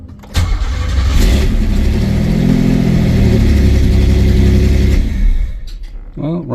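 A Pontiac Fiero GT engine with a newly installed Jet stage 2 performance chip starts with a crank, catches and runs at a loud steady idle for several seconds, then cuts off as a voice comes in at the end.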